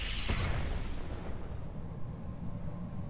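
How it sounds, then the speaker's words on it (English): A thermobaric explosion in the mech combat game Roguetech opens with a heavy, booming blast that rolls into a long, dense rumble and fades slowly, loud and with no talk over it. "Thermobaric explosion."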